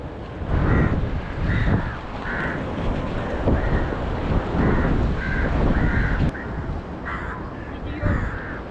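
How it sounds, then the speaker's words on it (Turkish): Crows on Crow Island, Sri Lanka, give repeated harsh caws in steady bursts throughout, fairly close and loud, over a constant rush of wind noise. "Papağan Adası değil, Karga Adası olmuş tabii ki."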